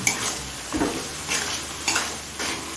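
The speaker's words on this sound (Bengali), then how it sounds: "এবার মিডিয়াম ফ্লেমে কিছুক্ষণ কষিয়ে নেব" Chicken and soybean ghugni with spices and a little water is stirred in a pan over medium flame, giving a steady close sizzle broken by several scraping stirs, with no voices.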